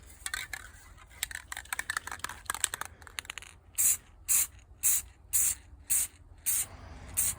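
Sealer sprays onto a blue jewelry box with taped hinges. First comes a run of quick, ragged hissing spurts, then about seven evenly spaced short aerosol bursts, all close and with no voices.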